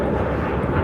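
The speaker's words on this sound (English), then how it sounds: "Oh, you hear the plane." An airplane flies overhead near a beach ballpark in Delray Beach, its broad, loud roar rumbling steadily and close throughout.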